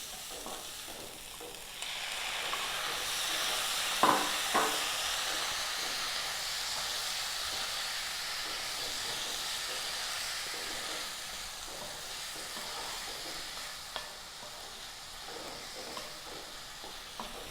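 Long beans and prawns fry in a hot pan with a steady broad sizzle and hiss, with occasional scraping stirs and a couple of brief clatters, sustained and close with no talking.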